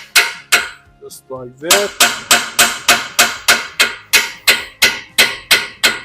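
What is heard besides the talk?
hammer striking spindle around tie rod end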